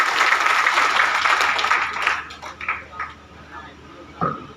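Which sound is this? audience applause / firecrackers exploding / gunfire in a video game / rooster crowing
audience applause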